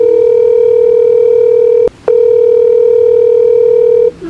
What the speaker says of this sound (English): I'm gonna try to call again.